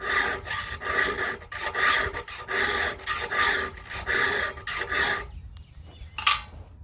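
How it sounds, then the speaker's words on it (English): A file rasps rhythmically against the teeth of a Lucas dedicated slabber sawmill blade, close and fairly loud in quick repeated strokes that stop near the end. "about 10 minutes or so to sharpen up one of these blades"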